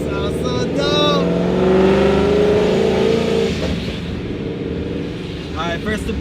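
A Ford 5.0 with a Paxton supercharger and ported Boss intake manifold being driven around the block, its engine rising in a revving, whining pull and then settling, with voices talking over it and a loud close-up sound.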